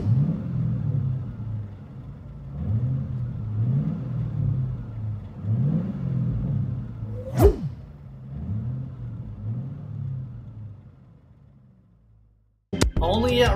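A 2008 Ford Mustang GT with a Race Demon true dual cat-back exhaust, its V8 heard from inside the car in a steady low rumble with repeated rising revs, a sharp click midway, then a brief quiet before it picks up again.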